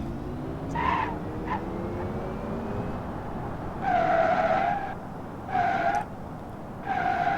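Car skidding in a driving video game, with tire squeals coming in repeated bursts over a steady engine and road roar. Three long screeches stand out near the end, and no one speaks.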